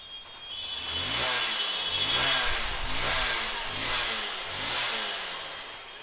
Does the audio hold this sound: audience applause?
no